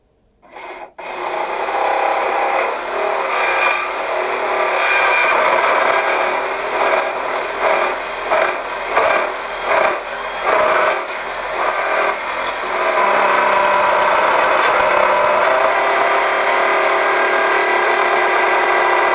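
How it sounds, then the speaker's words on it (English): A power drill spins steadily while arrows are being made, a loud continuous whir with a rasping, rubbing texture and a stretch of rhythmic pulsing in the middle, with no talk. "I'll just get the drill in."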